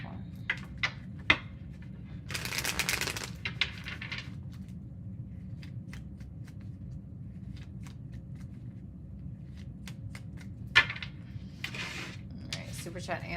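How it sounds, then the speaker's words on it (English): A deck of tarot cards shuffled during a love reading, with two brief riffling bursts separated by quiet room tone and a few soft taps and clicks. "Last shuffle."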